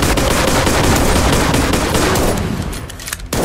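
Rapid automatic gunfire in the video game Finding Bigfoot rattles loudly and continuously before thinning out and stopping near the end.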